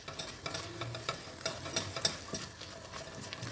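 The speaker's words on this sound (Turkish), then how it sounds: "Unumu güzelce kavuracağım" Flour dry-toasted in a pan over lowered heat is stirred steadily, giving close, repeated spoon scrapes and taps against the pan with a faint sizzle underneath and no voices.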